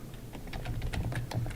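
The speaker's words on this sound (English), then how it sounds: "This is me typing." Rapid clicking of keys on a computer keyboard, a quick uneven run of close, crisp taps over a low steady background hum.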